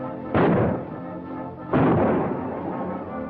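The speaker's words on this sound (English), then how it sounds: "go find out who's doing that shooting and stop them." Gunshots in a 1944 Western film, two heavy booming reports about a second and a half apart, each with a long rumbling echo, no talking.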